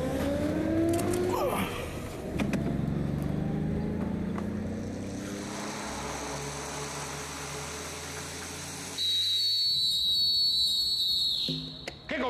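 A referee's whistle gives one sustained, shrill blast late in the clip, rising above a steady background of outdoor noise and low rumble.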